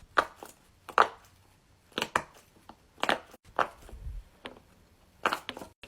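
A silicone guitar-shaped pop it fidget toy being pressed, producing a series of sharp, close pops in irregular bursts, some in quick pairs, with quiet gaps between.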